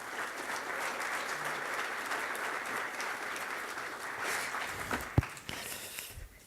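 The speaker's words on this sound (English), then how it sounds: "Let's give him a big round of applause." A lecture-hall audience at a university executive talk applauds a guest speaker, a steady sustained clapping from many hands that thins out toward the end with a few louder knocks.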